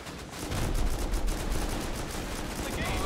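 Automated turrets in the survival game Rust fire rapid bursts of gunfire at a base during a raid, dense and crackling, with voices mixed in.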